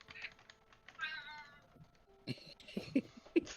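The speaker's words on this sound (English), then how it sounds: "the cat just meowing" A cat meows close to the microphone during a gaming stream, a short rising cry followed by keyboard typing and clicks.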